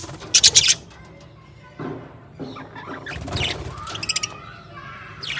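Pigeons in a loft give a brief burst of sharp high calls at the start, followed by low cooing and scattered softer chirps at close range.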